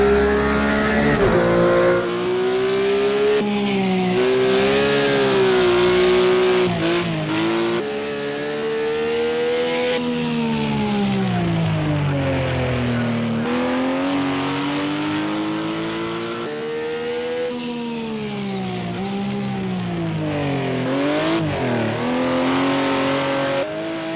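A Porsche GT3 RS engine in a racing video game, Project CARS 2 or Assetto Corsa, revs hard and loud while drifting, its pitch rising and falling continuously with no voices over it.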